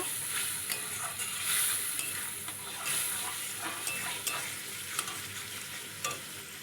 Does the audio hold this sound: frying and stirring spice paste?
yes